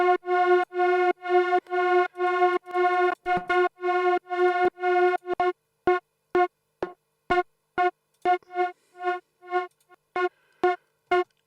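A bright, harmonic synth tone chopped into rhythmic pulses by the Nicky Romero Kickstart ducking effect, starting as steady gated bursts and then breaking into shorter, sharper stabs with clicks in between.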